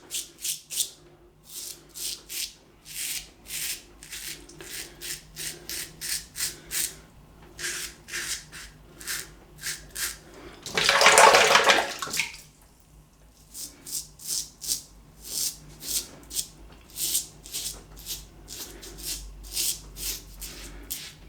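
An aluminium TGS Styletto safety razor is rinsed under running water, giving a brief loud splashing rush near the middle, set between many short dry scraping strokes of shaving.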